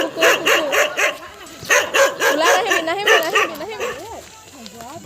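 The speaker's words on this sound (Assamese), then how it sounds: "বাটতে কুকুৰে ফুটিলে দেই" A dog on a roadside barks and yelps in quick repeated bursts, loud and close, with people's voices mixed in around the calls.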